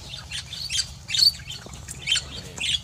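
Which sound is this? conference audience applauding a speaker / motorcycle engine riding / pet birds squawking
pet birds squawking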